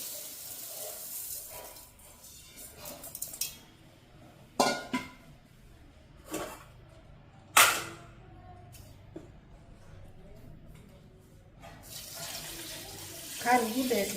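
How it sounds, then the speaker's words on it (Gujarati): Water pours from a tap over a large batch of sugar in a pot to start a syrup for raw mango murabba, a steady splashing flow broken by a few clatters and knocks, with some talk in the background. "એટલું પાણી નાખું, ખાંડ બુડે ને એટલું પાણી."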